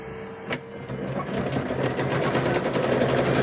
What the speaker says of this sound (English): So we're going to sew the top of these.